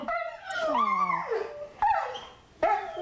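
A dog nearby whimpers and whines in a few short, high, wavering cries separated by brief pauses, with no one speaking.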